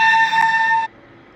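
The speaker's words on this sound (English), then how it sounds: "Hang on, whose whistle was that?" Steam locomotive whistle sounding one loud, clear, tonal blast that cuts off sharply, leaving faint background after.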